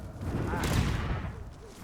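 A Confringo fire spell blasts in Hogwarts Legacy, one sustained burst swelling to a peak and fading over about two seconds amid the noise of a game fight.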